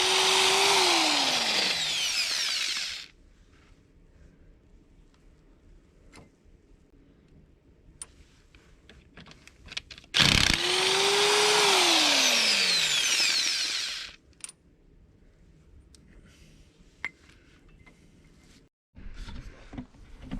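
Two loud bursts of a power tool whining up and then settling into a steady high roar, each lasting a few seconds, working bolts off a heavy old forklift boom, separated by quiet stretches with faint clanks and knocks.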